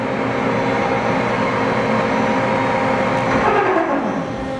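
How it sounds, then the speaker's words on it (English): A 1997 Daewoo Puma 18 CNC turning center running in second gear at 330 RPM, giving a steady, loud machine hum and whir that holds even throughout, with no talking. "That's second gear is running at 330 RPMs."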